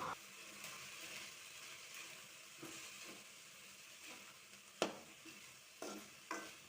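Black-eyed peas frying with grated coconut in a pan, a soft steady sizzle with a few louder stirring scrapes and clinks near the end.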